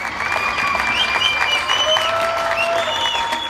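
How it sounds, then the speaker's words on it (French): Evening applause rings out from the facades of apartment buildings during the French lockdown in support of health workers, with a broad wash of distant clapping, crowd noise and high whistles echoing between the blocks. "Chaque soir à 20h, les applaudissements rugissaient des façades d'immeubles pour soutenir les soignants."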